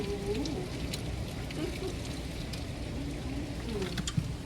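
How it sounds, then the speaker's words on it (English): Rain mixed with a little hail falling steadily, a dense constant patter with occasional brighter ticks, and faint voices in the background. "Got a little bit of hail now."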